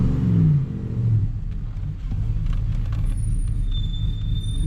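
A project car's exhaust with the cutout closed, muffler engaged, revving in a couple of deep, muted swells before settling into a steady rumbling idle, close and fairly loud, no talking.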